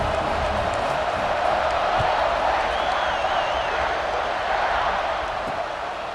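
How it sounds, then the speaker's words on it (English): Stadium crowd in EA Sports College Football 26 buzzing after a score, a dense continuous roar of cheering voices that holds steady throughout, loud and enveloping with no distinct individual sounds. "this crowd is buzzing after that last score"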